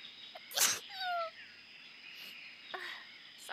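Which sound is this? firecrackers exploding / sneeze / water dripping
sneeze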